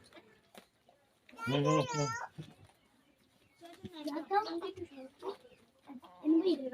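A chicken clucks close by in short bursts while someone talks nearby.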